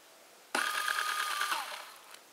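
Combat robot wheel motors run on a 2S battery for a test. The motor suddenly starts a steady, close whine that holds for about a second, then drops in pitch as it spins down.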